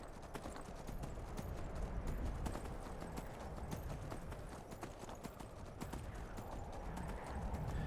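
Horse hooves clip-clop in a steady galloping rhythm while riding through modded Skyrim, the video game, with dense repeated hoofbeats continuing throughout at moderate level.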